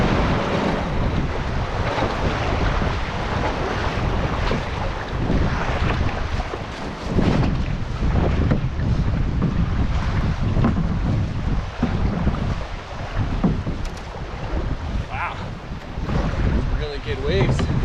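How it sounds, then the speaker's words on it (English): Strong wind roars steadily across a solo canoe on Slocan Lake, with waves slapping and splashing close by and buffeting gusts on the microphone throughout. "the wind kicked up out of nowhere"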